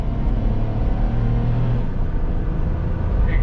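A 2006 Chrysler Town & Country minivan engine held in L gear and revved to about 4,500 rpm, heard from inside as a steady, loud droning rumble with a sustained whine that barely changes over a few seconds.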